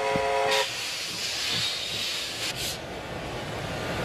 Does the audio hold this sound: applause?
no